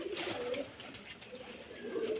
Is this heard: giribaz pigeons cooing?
yes